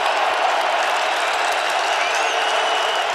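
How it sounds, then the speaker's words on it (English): Roaring stadium crowd at an NFL game between the Green Bay Packers and Minnesota Vikings, a dense, sustained loud wall of cheering and noise filling the whole stretch. "This crowd is ripping."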